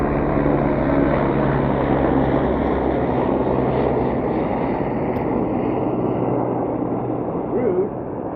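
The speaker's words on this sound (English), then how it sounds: "there's a helicopter that just flew like right above my house" A loud, steady low rumble of a helicopter passing close, directly above a house, droning continuously throughout with no other sounds.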